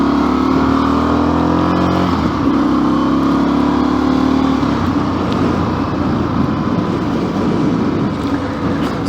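A motorcycle engine revs loudly and continuously up close in a small car park, its pitch rising and falling with throttle blips and then settling into a rougher, lower idle rumble.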